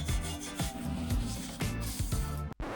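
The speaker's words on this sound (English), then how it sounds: "Here I'm scraping off what's probably years of glue and paint" A scraper rubs years of old glue and paint off the metal tables of a RIDGID jointer, producing loud, close, rhythmic rasping strokes that repeat about every half second.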